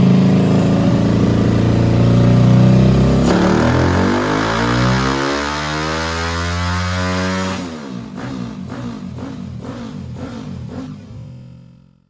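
Honda Supra X (Supra Daytona engine) motorcycle revving hard on a dyno: a loud, rising engine whine that climbs steadily through the gears, then falls into choppy lower revs with rhythmic pulses before cutting off.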